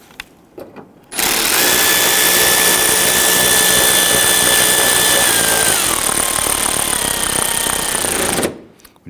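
A power tool runs hard and steadily for about seven seconds, loud and close, driving an upper 10mm bolt into the bumper cover of a Dodge Charger, with no talk.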